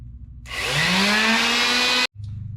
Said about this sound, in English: I have my quarter sheet sander here,